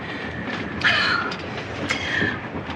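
A train rumbles steadily along the tracks, with brief metallic squeals of wheels rising over the continuous rattle.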